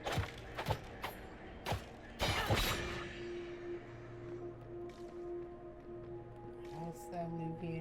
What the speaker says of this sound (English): That Eluvian is smashed.